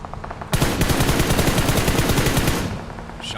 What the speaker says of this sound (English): Shots on the road here.